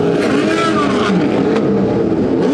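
Several racing car engines roar loudly and continuously up close at Goodwood's 75th Members' Meeting, their pitches rising and falling as they rev over one another.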